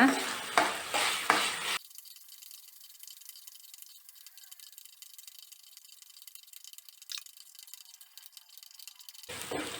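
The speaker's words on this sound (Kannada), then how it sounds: "ಒಂದು ನಿಮಿಷ ಹುರ್ಕೊಳ್ಳೋಣ" Dry lentils roasting in a pan, stirred with a few loud scraping, rattling strokes at the start and again at the very end, with near-quiet low sizzling in between.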